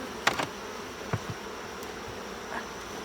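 Honeybees hum in a soft, continuous background buzz during a hive inspection, with a few bees flying close for brief louder passes and small clicks of equipment.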